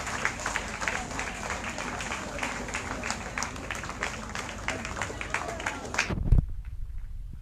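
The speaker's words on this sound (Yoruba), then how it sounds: "Ẹ jẹ́ ká pàtẹ́wọ́ fún Jésù bí wọ́n ṣe ń bọ̀ ọ́." Congregation at a women's prayer and fasting meeting in Oyo State claps for Jesus, dense sustained applause with crowd noise that cuts off abruptly near the end.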